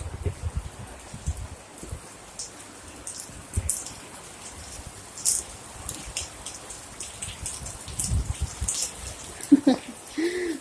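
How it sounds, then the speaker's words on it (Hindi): Heavy rain pattering steadily on surfaces outdoors, with scattered louder drips and splashes over a continuous wash of falling water. "बहुत ज़्यादा बारिश हो रही है"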